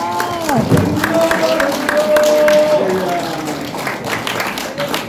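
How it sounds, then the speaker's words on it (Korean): A congregation at a New Year blessing service applauds and calls out to welcome a pastor, steady clapping and crowd voices with someone speaking over them. "목사님 오실 때 할렐루야로 큰 소리로 환영하면서 박수로 환영하시겠습니다"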